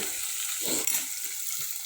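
A tadka of hot oil sizzles as tempering for potatoes and peas, a soft, steady frying hiss heard up close at low volume, with one brief knock partway through.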